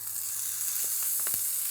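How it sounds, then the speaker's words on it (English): Chicken skin-side down in a very hot pan sizzles steadily and close, with brief crackles and spits popping over the continuous hiss. "See that lovely sizzle?"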